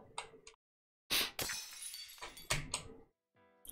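Glass shatters in the office game My Coworker is an Idiot: two loud, close bursts of breaking and crashing, each trailing into scattered tinkling shards, with brief quiet gaps between impacts.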